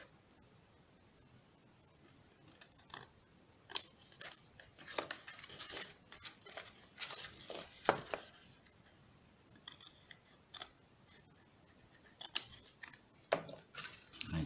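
Scissors cut paper for a Bascetta icosahedron in a close, quiet room, with irregular short snips and pauses between them.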